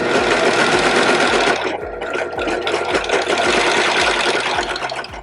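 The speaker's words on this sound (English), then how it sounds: "then lower your presser foot and then just stitch right on down" Serger sewing machine stitching a seam runs loud and close with a fast, steady mechanical chatter, briefly easing off near the two-second mark before resuming, with no talk.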